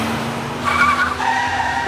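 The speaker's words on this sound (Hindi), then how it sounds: "उसके बाद गाड़ी शिमला की ओर निकल गई।" A car pulls away with tires skidding and squealing on the road, heading toward Shimla in Himachal Pradesh. The engine roars loud and close, and the tire screech swells briefly in the middle.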